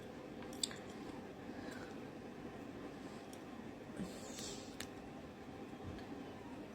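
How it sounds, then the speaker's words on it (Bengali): Someone chewing pomelo, soft moist chewing and biting noises, faint and fairly steady against a low background hum, with no talk. "মানিকেও জাম্বুরা খায় দেখা যায়"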